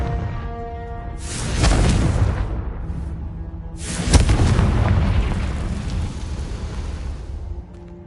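Spell explosions from Hogwarts Legacy, with two big rumbling blasts about three seconds apart, each loud and broad, swelling and then rolling off in a long fading boom.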